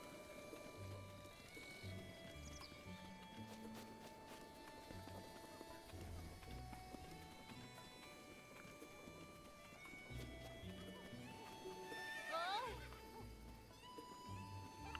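A horse in Zelda: Breath of the Wild, hooves clopping in uneven bursts with a neigh near the end, set over steady game music.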